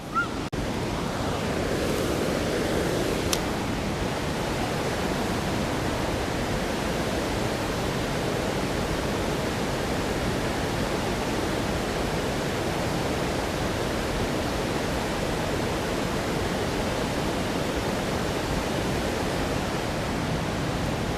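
Waterfall on the South Yadkin River, a steady dense roar of rushing water that holds unchanged throughout, with no talking.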